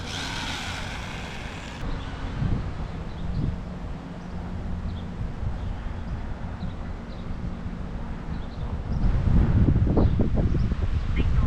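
Wind gusts outdoors with rustling and low rumble buffeting the microphone, swelling louder toward the end, with faint birds and distant traffic in the background.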